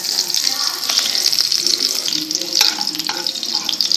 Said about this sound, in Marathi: मिरची चांगली भाजून घ्यायची।